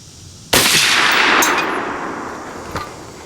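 A single sharp, loud Rock River Arms 6.5 Creedmoor rifle shot at a shooting range, followed by a long ringing echo that fades slowly and a fainter metallic clink near the end.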